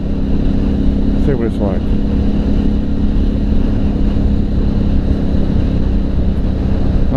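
Aprilia Shiver motorcycle on the move, a constant loud engine and wind roar filling the whole stretch, with a rider's voice briefly heard over it.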